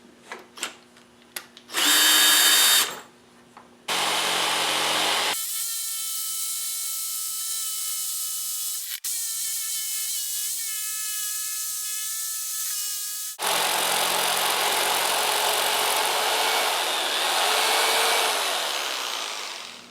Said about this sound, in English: what we're going to do next is cut it out with our jigsaw